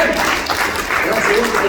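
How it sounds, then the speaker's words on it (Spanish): Congregation clapping in a Spanish-language church service, a loud, brief burst of applause that mixes with voices throughout. "¿Le puedes dar un aplauso al Señor?"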